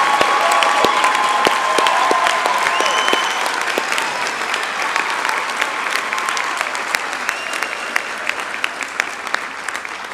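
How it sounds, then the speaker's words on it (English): An audience at a university graduation ceremony applauds the graduates, with sustained, loud, dense clapping from a large crowd that gradually thins toward the end. "let us give our graduates a big hand for their hard work and perseverance"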